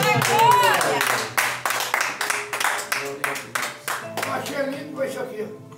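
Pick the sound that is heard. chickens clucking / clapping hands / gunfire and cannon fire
clapping hands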